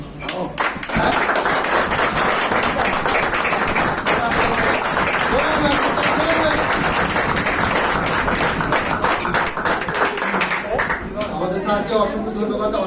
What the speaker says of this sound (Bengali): ছোট হাততালি হবে।